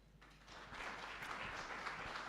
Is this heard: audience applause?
yes